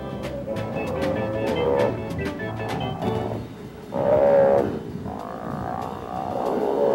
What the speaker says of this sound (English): an angry bull sea lion echoes a challenge to the intruders